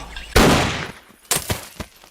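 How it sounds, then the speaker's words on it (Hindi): A single loud gunshot from a Hindi film scene cracks out as a sharp blast with a long decaying tail, followed by a few quieter thuds and knocks. "अब गोली चला दो।"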